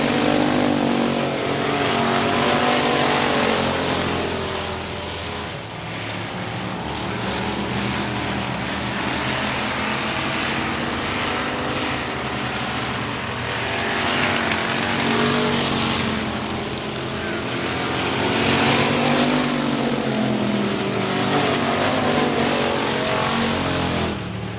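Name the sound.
race cars racing around a speedway track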